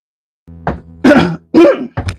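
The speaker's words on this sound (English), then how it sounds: "I just coughed in my mic." A few rough throat-clearing coughs right up close to the microphone, loud and abrupt, in quick succession.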